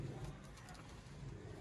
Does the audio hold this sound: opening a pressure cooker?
no